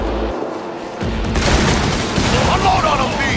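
Sustained gunfire in Cyberpunk 2077, a dense loud fusillade of rapid shots and booms after a brief muffled lead-in, continuing steadily with a voice shouting over the shooting.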